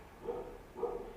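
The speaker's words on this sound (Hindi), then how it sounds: "कुत्ता भौंक रहा है जिसकी आवाज़ मुझे बहुत अच्छी नहीं लग रही" A neighbouring dog barks twice in the background, two muffled, fairly faint woofs about half a second apart.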